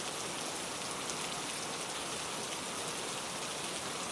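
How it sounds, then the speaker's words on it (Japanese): Steady rain falls continuously as a soft, even hiss of drops on surfaces, with no voices, gentle and unchanging throughout. "かすかに聞こえる雨音"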